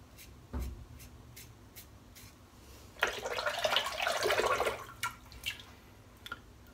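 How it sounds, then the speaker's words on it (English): Cold tap water rinsing vanilla patchouli goat's milk shaving soap off: a short, close burst of running, splashing water in a quiet room, with a few small clicks and drips before and after. "Rinses off nice in the cold water,"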